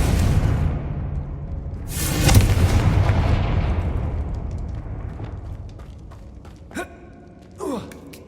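A Confringo blasting spell goes off in Hogwarts Legacy, a broad rumbling explosion that swells, peaks and slowly fades, followed by two short sharp magical bursts.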